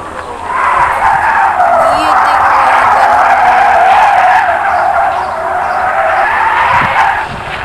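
Tires of a car squeal and skid loudly during a burnout, a sustained screech swelling and easing over several seconds with engine roar underneath, close to the listener, with voices briefly audible.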